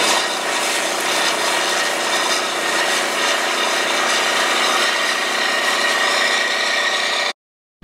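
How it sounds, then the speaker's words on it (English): A tractor runs a PTO-driven impeller on a manure tank applicator at a hog farm, giving a steady, loud, broadband mechanical drone that holds constant for about seven seconds and then cuts off abruptly. "That PTO shaft between the tractor and the tank runs an impeller"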